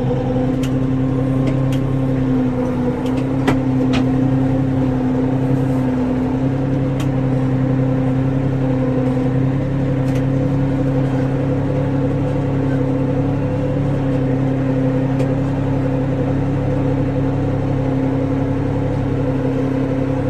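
A compact tractor engine drones at a steady idle-like pitch for about twenty seconds, constant and fairly close, with a few faint clicks above the hum.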